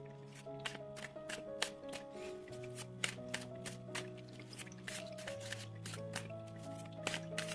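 Tarot and oracle cards are shuffled by hand, giving soft, quick riffling and flicking bursts over gentle sustained background music, with no talk.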